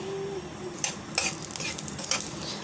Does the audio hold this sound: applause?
no